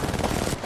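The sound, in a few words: gunshots fired in video game Apex Legends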